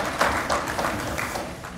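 Applause at a council of ministers session of OHADA in Bamako, greeting Mali's transitional head of state. Short, dense, steady clapping from a seated audience fills the hall.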